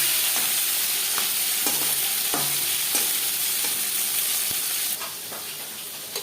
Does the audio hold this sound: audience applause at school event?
no